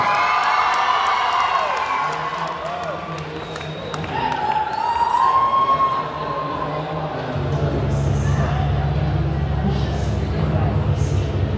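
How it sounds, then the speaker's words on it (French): A crowd at a cosplay contest cheers and applauds a cosplayer, with whoops and shouts over clapping, while a voice talks in the middle; the cheering swells again near the end into loud, sustained applause. "s'il vous plaît, applaudissements"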